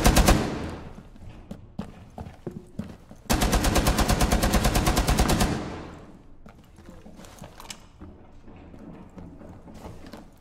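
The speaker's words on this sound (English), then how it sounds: "get on the machine gun" A machine gun fires in the video game Rainbow Six, a loud sustained stream of evenly spaced rapid shots lasting about two seconds, set among scattered quieter gunshots and game noise.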